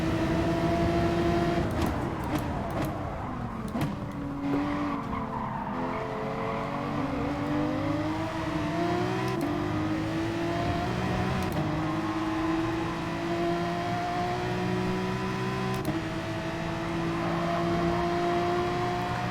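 A Nissan race car engine in Gran Turismo Sport pulls hard down a straight, a steady rising drone with gradual pitch climbs and a few brief shift breaks, loud and continuous with no talk.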